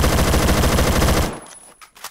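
Rapid automatic fire from an AK-12BR rifle in the video game Phantom Forces rattles loud and close in a fast even burst, then cuts off abruptly into near silence.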